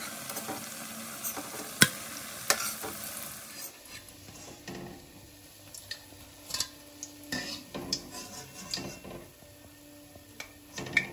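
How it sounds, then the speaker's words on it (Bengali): Dhoka, Bengali lentil cakes, frying in hot oil: a soft sizzle with clattering spatula and pan knocks as pieces go into the oil, then a steadier bubbling hiss under scattered scraping clicks. "এবার আমি বাদ বাকি ধোকাগুলো আবার দিয়ে দিচ্ছি, আর সমস্ত ধোকাগুলো আমি এইভাবে ভেজে তুলে নেব।"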